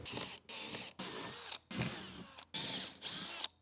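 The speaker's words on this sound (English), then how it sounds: "we're just going to take a 1/8 inch drill bit and we're going to drill out these holes" A power drill with a 1/8 inch bit whines in several short bursts, each a few seconds long with brief pauses between, close and steady as it bores out screw holes.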